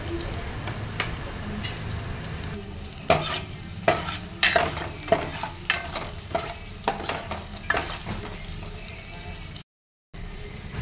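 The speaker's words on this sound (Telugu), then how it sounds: "ఇప్పుడు ఈ ఆనియన్స్ అన్నీ వేగిన తర్వాత పచ్చిమిర్చి వేసుకోవాలి" Sliced onions and slit green chillies frying in a pan with salt for aloo fry, giving a steady sizzle under sharp, irregular clacks of a stirring spoon and a brief cut to silence near the end.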